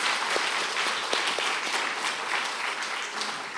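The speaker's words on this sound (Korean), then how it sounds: "하나님께 감사와 영광의 박수를 올릴까요?" A church congregation at a Sunday worship service breaks into sustained, dense applause, steady and fairly loud from start to finish with no speech over it.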